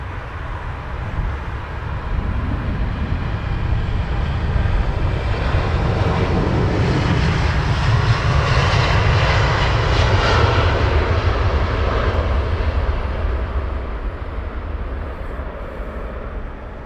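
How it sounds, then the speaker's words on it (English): A Boeing 787 Dreamliner at Heathrow Airport roars loudly and continuously, a deep broadband jet engine rumble that swells to a peak midway and then slowly fades, with no voices over it. "Dreamliner there."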